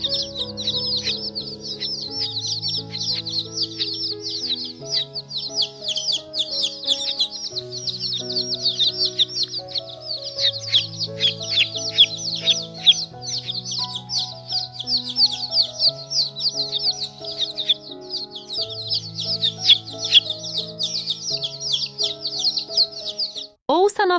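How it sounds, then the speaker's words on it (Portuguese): Baby chicks cheep continuously in high, rapid peeps over a melodic children's music background, steady and fairly close throughout. "O pintinho é um bebê de galinha."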